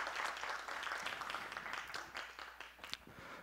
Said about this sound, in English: please give them the applause